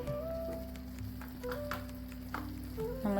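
Tomatoes fry in a pan for tomato rice, giving a soft, continuous sizzle with faint scraping as they are stirred, all fairly quiet over a low background hum.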